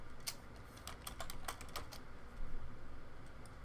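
Fast, uneven keystrokes on a computer keyboard, a quick run of sharp clicks spread through the moment, close by and moderately quiet over a low room hum.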